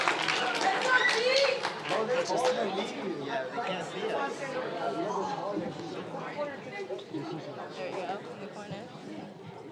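Audience applause at a youth sports team's end-of-season awards ceremony, a burst of clapping that starts strong and then thins out under loud crowd chatter and children's voices.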